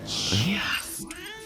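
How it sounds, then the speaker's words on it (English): A cat meows in the 2015 film Cinderella, one drawn-out, mid-pitched cry that fades out, followed by a brief quiet rustle. "The cat's name is Lucifer."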